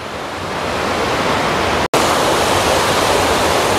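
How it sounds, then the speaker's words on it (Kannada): Water thunders at full flow through the opened gates of Siddakatte Kuppepadav dam, a loud, dense, unbroken roar close by, cut by one split-second dropout midway before resuming at full strength. "ಇದು ಡ್ಯಾಮ್ ಓಪನ್ ಮಾಡಿದ್ದಾರೆ, ಹಾಗೆ ನೀರು ಫುಲ್ ಫ್ಲೋ ಅಲ್ಲಿ ಹೋಗ್ತಾ ಉಂಟು ನೋಡಿ"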